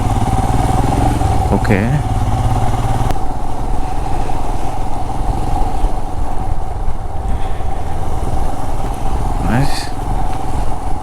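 A Royal Enfield Himalayan BS6 motorcycle rides along a road from Goa to Maharashtra, a loud, steady engine drone mixed with wind rush, with the rider speaking briefly over it.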